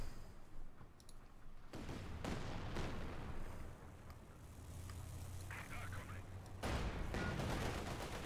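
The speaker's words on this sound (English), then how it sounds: "Katyusha firing off here, 17 kills." Katyusha rocket artillery in the strategy game Company of Heroes 2 fires in a dense barrage of rushing, crackling blasts and distant explosions, with a commentator speaking over the battle.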